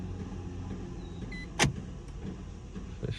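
Hyundai Sonata 2012 locking via a newly programmed remote key: a single sharp click-thunk of the door locks midway, standing out against steady low background rumble, with a faint short beep-like tone just before.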